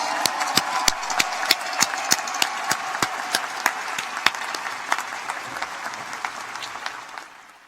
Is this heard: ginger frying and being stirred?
no